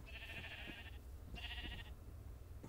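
A Minecraft sheep bleats twice in quick succession, each a short nasal wavering cry, moderately near over faint background hum.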